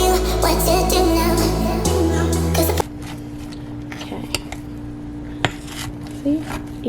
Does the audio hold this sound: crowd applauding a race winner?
no